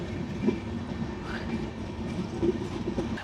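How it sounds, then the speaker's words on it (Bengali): A passenger train pulls out of Mawa railway station bound for Rajshahi, a steady close rumble of wheels and carriages with faint clickety-clack rhythm throughout, no voices. "এখন রাজশাহীর উদ্দেশ্যে ট্রেনটি ছেড়ে যাচ্ছে"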